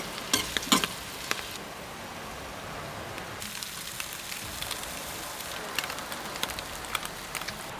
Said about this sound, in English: we've got some potatoes frying there in the frying pan